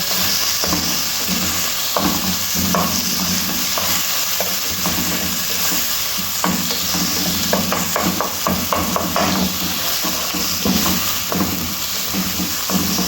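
Meat stirred in a pan of hot corn oil, a steady loud sizzle running throughout with repeated scraping and clacking strokes of the spoon against the pan.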